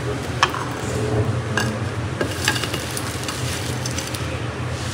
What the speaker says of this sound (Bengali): এখন তেলে রাখা চিংড়ি মাছগুলো দিয়ে দিবে।